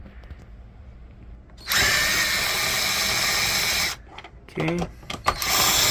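A power screwdriver whirs loudly for about two seconds, then gives a few shorter bursts, backing a screw out of the side panel of an Epson WF-2830 printer up close; a voice briefly speaks between bursts.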